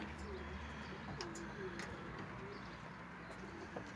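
Pigeon hens kept in a small loft during widowhood racing season coo softly and repeatedly, the low murmuring calls sitting under a steady background hum with occasional faint chirps.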